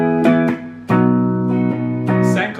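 Electric guitar strumming the chords of a song, a few clear ringing chords struck in sequence with short pauses and string noise, close and moderately loud, no voices.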